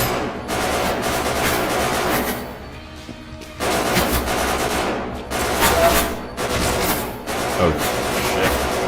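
Turret gunfire in a video game, loud machine-gun bursts in several long volleys broken by short silent gaps.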